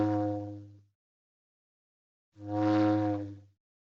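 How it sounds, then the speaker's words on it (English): Two separate harmonic cartoon whistle effects from the Warner Brothers sound effects library, each about a second long, clear and close, with a pause between them and no talking. "There's some cartoon whistles here."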